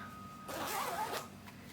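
The zipper of a fleece jacket is pulled open in one quick, close rasping stroke, heard alone in a quiet room.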